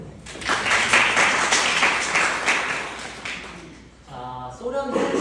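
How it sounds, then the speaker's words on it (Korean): Audience applause at a Korean university ROTC lecture, a room of students clapping together in a dense, steady burst that fades near the end as a voice begins speaking over it. "박수 한번 주세요."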